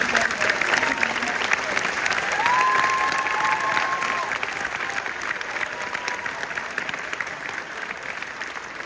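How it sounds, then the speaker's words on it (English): A large audience at a middle school all-star band concert applauds the band directors in sustained, dense clapping that swells early and then slowly fades, with a few cheers mixed in. "let's give our directors a huge thank you, round of applause"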